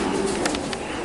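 Racing pigeons coo in a one-loft race loft, a few soft low coos rising over steady background noise and bird activity, fairly close.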